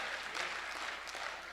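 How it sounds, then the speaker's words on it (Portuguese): A church congregation claps for the Lord during a sermon, a steady dense roar of many hands that holds at an even level throughout, with no voices standing out. "Joga as tuas mãos ao alto e aplauda ao Senhor."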